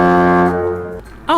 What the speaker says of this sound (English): those are some great horn sounds for your boat